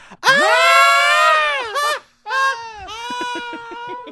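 Two or three voices imitate a long, drawn-out scream together, a loud sustained wail that breaks off, then a second shorter shriek that wavers and trails into a shaky, laughing ending.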